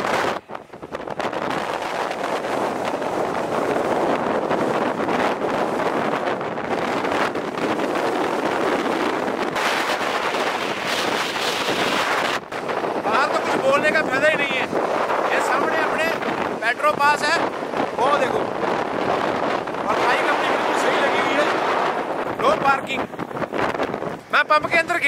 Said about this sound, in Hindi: दरवाजा खोलूंगा ना तो आपको मालूम पड़ जाएगा प्रेशर कितना है हवा का।